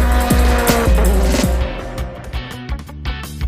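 A Honda VTEC engine revs hard, its pitch repeatedly sweeping upward through quick gear pulls, loud and close, before settling into sharper, choppier bursts.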